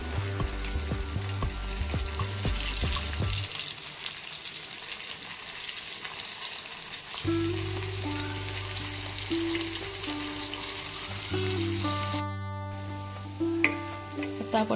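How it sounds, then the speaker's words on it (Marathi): Veg pea cutlets made from fresh green peas fry in a pan with a steady, close sizzle, while a tonal musical background runs loudly over much of it. "तोपर्यंत हे बाकीचे आणखी थोडे फ्राय होतील."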